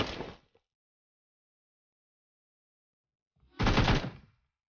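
Two short bursts of pistol gunfire from a mobile shooter video game, the first fading in the opening half second and a second, louder burst arriving about three seconds later after silence.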